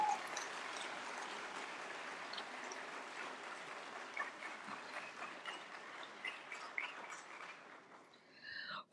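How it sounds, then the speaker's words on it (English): Faint, distant audience applause fills a hall at a national science award ceremony, a soft, even patter of clapping that holds steady throughout. "Please welcome with a loud applause Dr."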